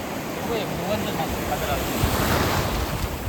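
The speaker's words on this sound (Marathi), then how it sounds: "पाणी वाढत चाललंय आणि लाटा बघा आपल्या उचलल्या" Sea waves rush and surge continuously close by on a beach, mixed with gusty wind buffeting the microphone.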